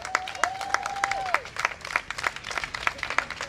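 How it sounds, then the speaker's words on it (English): Audience at a Brooklyn netball event clapping for Commissioner Jeffries, a sparse scattering of separate hand claps in uneven rhythm, with a brief sustained tone early on and a faint voice underneath. "Let me ask you to give Commissioner Jeffries a round of applause."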